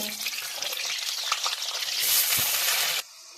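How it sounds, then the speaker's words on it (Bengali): Loud, continuous sizzling of potatoes frying in about 100 grams of oil, with occasional stirring clatter, swelling near the end before cutting off sharply. "আলুটা আমি ভেজে নেব।"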